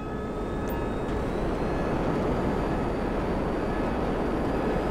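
Jet aircraft in GTA V, a steady loud roaring engine rush with a faint rising whine on top, continuous and unbroken for several seconds with no talk over it.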